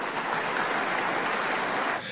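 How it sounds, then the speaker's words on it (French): Steady applause from a crowd at a French political speech, a dense, continuous wash of many hands clapping at close range that holds evenly for about two seconds before thinning slightly at the end. "Vous pouvez applaudir aussi, mesdames et messieurs."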